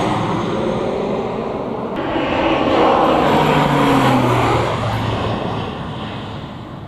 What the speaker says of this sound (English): Such a quiet plane. It's really quiet.